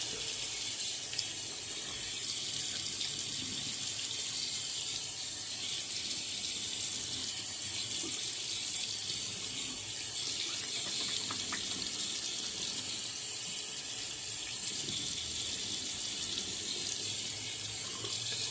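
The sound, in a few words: water running while rinsing face after shaving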